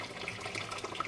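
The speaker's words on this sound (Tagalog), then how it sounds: "Magdagdag tayo ng kunting tubig." A little water is poured into a cooking pot of chicken, a short, faint trickling splash lasting about a second with no talk over it.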